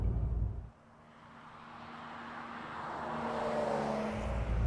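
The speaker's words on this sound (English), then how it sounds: "there's a little bit of exhaust noise" Exhaust rumble from a 2020 Porsche 911 Carrera with sports exhaust, a steady low drone that builds gradually over a few seconds, fairly loud and close, with no talking.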